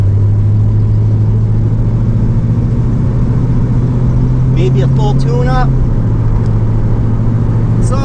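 A 1986 Chevy Caprice Super Stepside being driven, its engine giving a steady low drone with a slight shift in pitch near the end, loud and continuous under someone talking.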